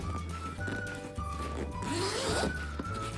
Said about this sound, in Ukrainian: Плавність замків приємна